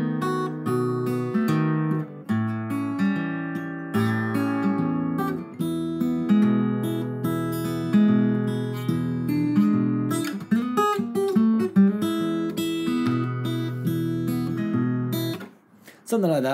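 Acoustic guitar plays a Travis-picked blues through a 12-bar progression, with an alternating bass thumb under melody notes and hammer-ons, heard close and clear in a steady rhythm for about sixteen seconds, with no one talking.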